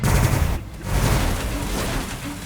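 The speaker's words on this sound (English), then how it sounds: "Start shooting into these guys." Seraphim units in Warhammer Battlesector open fire, a thick burst of rumbling gunfire and impacts that briefly pauses, then carries on as a dense barrage.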